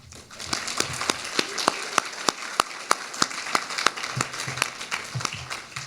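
Audience clapping at a talk event welcoming speaker Graham to the stage, with distinct rhythmic claps standing out over a steady wash of applause, fairly close and sustained.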